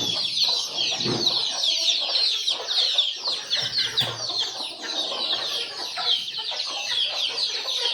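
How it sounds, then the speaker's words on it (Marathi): Free-range village chickens cluck and chatter in a busy, close flock as roosters are let out, with overlapping calls and occasional louder squawks over steady farmyard noise. "आता आपण कोंबडे सोडणार आहे"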